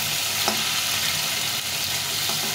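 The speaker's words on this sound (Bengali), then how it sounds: "এখন আমি এটাকে উল্টে পাল্টে সুন্দরভাবে ভেজে নেবো" Pointed gourd (potol) fries in a pan with a little oil over raised gas flame, producing a dense, steady, close sizzle with one faint utensil touch.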